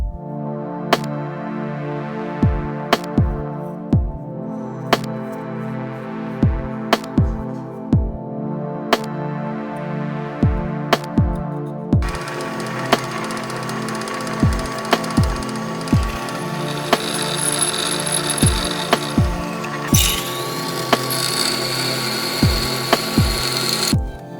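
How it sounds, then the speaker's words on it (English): A power drill press drills holes in steel, punctuated by sharp metallic clicks and thunks at steady intervals, with the motor's whine rising partway through. "we'll take it over to the drill press"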